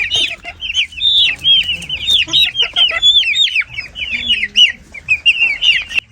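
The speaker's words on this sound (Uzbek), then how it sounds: "5-6 yaxshi xo'roz bor bu yerda." Five or six fighting roosters cluck and call in a busy, overlapping chorus of sharp, repeated notes, loud and close throughout, with brief gaps between bursts.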